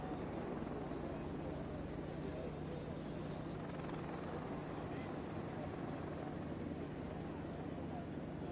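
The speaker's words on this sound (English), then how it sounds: "if you look down to your right now, taking the active runway, the modern tanker marvel known as the KC-46 Pegasus." A Boeing KC-46 Pegasus tanker, based on the 767 airliner, taking the runway at an air force base airshow, a steady distant jet rumble and hum throughout, with an announcer talking over it.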